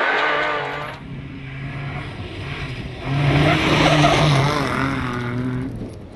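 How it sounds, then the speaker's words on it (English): A rally car engine roars and strains as it is thrown sideways on the handbrake into corners, tires scrubbing and sliding across a loose surface, the sound swelling louder midway and staying close throughout. "flat out on the handbrake, left foot braking, and really throwing the car sideways into corners"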